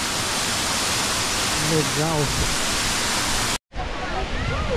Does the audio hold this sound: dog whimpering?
no